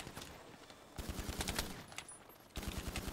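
Rapid automatic gunfire in GTA roleplay, bursts of quick shots with short pauses between them, faint and distant-sounding.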